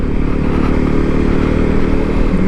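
A 2023 Voge 300 Rally motorcycle being ridden, its engine droning loud and steady with rumbling wind and road noise throughout, no voices over it.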